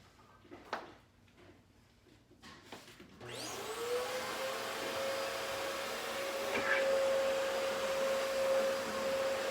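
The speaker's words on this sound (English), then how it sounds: "You may have noticed that I've only vacuumed one half of the carpet" A vacuum cleaner starts up after a few sharp knocks, then runs steadily and loudly on carpet with a sustained motor whine and airy roar, no talking.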